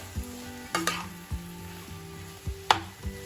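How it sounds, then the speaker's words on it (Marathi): Potatoes and chillies sautéed over a low gas flame for Mumbai vada pav filling, with rhythmic spatula scrapes and stirs about every half second over a soft sizzle. "मिरची छान असं भाजीला आपल्याला लागली पाहिजे त्या सर्व बटाट्यांना छान लागली पाहिजे छान असं परतून घ्यायचं"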